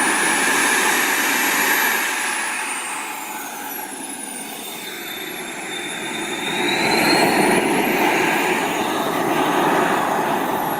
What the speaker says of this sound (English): We got this cool little turbine right here, man. Let's listen.